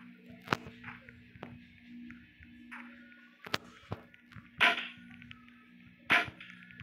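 Several sharp, isolated gunshot cracks in the video game Roblox, about five or six spread unevenly over a low steady hum, fairly quiet overall with no talking.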